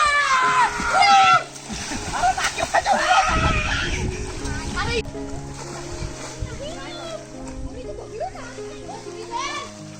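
Children's excited voices and shouts mix with splashing river water, lively and close, as kids play and swim together in a village river.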